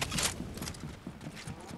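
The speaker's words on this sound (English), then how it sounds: "Yeah, I hear footsteps" Rapid rhythmic footsteps in the Fortnite video game, a steady patter of close, fairly loud steps running through the whole short stretch, with no talk over them.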